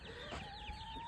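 Young hens cluck faintly in a coop, a few soft, short calls buried under steady broadband noise.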